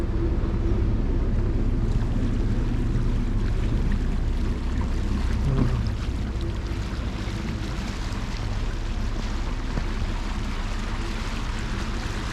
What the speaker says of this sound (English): Motoring down the canal anyway.